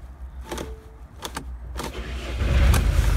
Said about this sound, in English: we now have the new starter all installed. Let's give it a go.